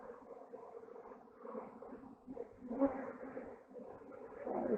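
Honey bees hum in a steady, faint, low swarm-like drone over a hive frame lifted during a spring inspection, continuous throughout with slight swells and no clear talking.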